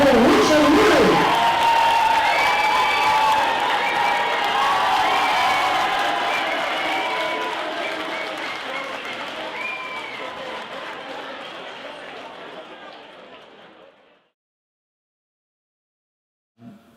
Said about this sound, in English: A round of applause for a man from Blackpool, Richard Lee